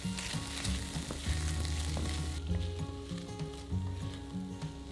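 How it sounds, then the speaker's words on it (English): Minced garlic and tomato puree are stirred in a frying pan for beef goulash, a soft steady sizzle with repeated scraping and clinking stirs, and nobody talking. "Add in 2 cloves of minced garlic and 2 tablespoons of tomato puree and stir everything together."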